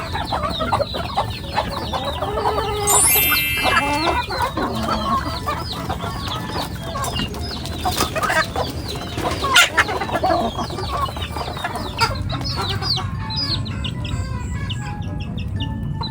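Chickens cluck steadily throughout, with a rooster's crow rising briefly early on, in a busy outdoor farmyard setting in the Philippines.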